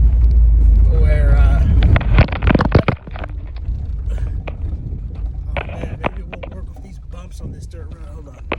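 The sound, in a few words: car driving on a dirt road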